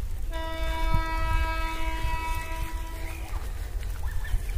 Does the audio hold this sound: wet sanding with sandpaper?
no